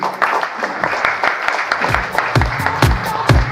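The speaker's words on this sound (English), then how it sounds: "Let's give him another huge round of applause, please." Summit audience applauding a speaker at an Amazon Ads business event, a dense wash of many hands clapping close and loud, with a few bursts of louder individual claps in the second half.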